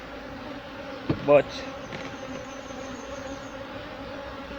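Honey bees buzzing steadily around an open hive during a hive inspection in Jamaica, a continuous near hum with a brief louder burst as one flies close, under a single spoken word.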